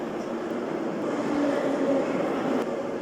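A metro train in the Metro Simulator 2 video game runs along the track with a steady, moderate rumble and a faint whine that swells slightly midway, heard alone without speech.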